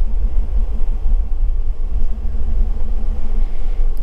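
A car engine revs up and runs steadily during a scanner self-test, with the clutch pedal depressed. The low, continuous rumble stays loud and close throughout, with a faint steady hum above it and no one talking.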